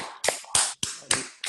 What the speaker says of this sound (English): we should thank the speaker again by clapping